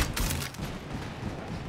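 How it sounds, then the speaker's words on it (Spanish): A quick burst of gunfire in the video game Fortnite, a short sharp crackle followed by a brief rumbling tail, heard alone. "Con un disparo le bajó todo el escudo al pobre."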